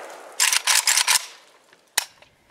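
A Hungarian SA-85M underfolder AK rifle fires a quick burst of several close, sharp cracks in fast succession, then one more isolated shot after a short pause.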